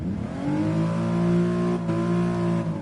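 A car engine revs in the Gran Turismo Sport video game with a steady, sustained drone of strong harmonics. It dips briefly near the end and then holds again. No one speaks.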